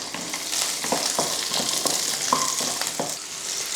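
Shallots, garlic and ginger sizzle in hot oil in a pan, a loud continuous crackle broken by regular scraping stirs, close up with no talking.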